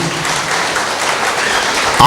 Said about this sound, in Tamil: ஒரு பெரிய கைத்தட்டை கொடுக்கலாம் அந்த பெண்ணுக்கு